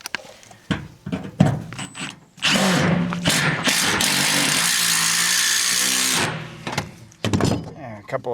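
Power drill driving screws into a trailer being built for wildfire protection, a sustained loud whirring run of several seconds after short clicks and knocks, with brief bursts at the end.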